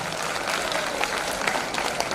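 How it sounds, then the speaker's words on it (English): Audience applause at a student leadership event, a dense, steady wash of many hands clapping throughout, loud and continuous without pauses. "Give them a big round of applause"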